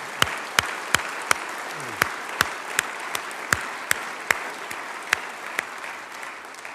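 An audience at the North Dakota 2023 State of the State address claps steadily, with sharp individual claps standing out at close range.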